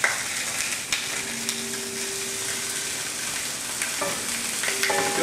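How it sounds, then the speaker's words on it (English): Gnocchi sizzles in olive oil in a pan of cooked sausage, a soft continuous frying hiss with a few scraping stirs and clinks of a utensil against the pan. "I'm going to go ahead and sprinkle the gnocchi straight in this pan."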